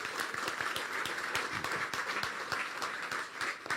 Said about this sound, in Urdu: شاباش، اپنے لیے تالیاں بجا دیں